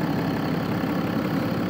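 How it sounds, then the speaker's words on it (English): A Nissan GT-R twin-turbo engine runs at idle after a jump start, giving a steady, close, fairly loud mechanical drone with a low rumble and no break or voices. "twin turbo power helping the Nissan GTR back to life again"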